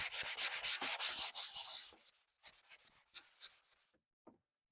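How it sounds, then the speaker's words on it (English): Sandpaper rubs across a wooden sign surface in quick close strokes, loud at first, then thinning into sparse lighter scrapes before stopping, with one small tap near the end. "So sand and make it smooth."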